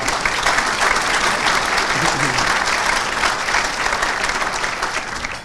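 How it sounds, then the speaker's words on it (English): Sustained applause from a luncheon audience welcoming a governor at Mac Ray's, dense and steady for several seconds and tapering near the end, with a voice faintly under it. "Round of applause?"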